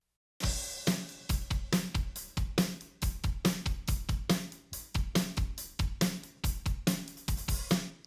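A full drum kit with phase cancellation problems plays a steady beat with kick, snare and cymbals, sounding thin and hollow, with no voices.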